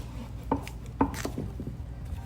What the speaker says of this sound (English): we're going to split it in half,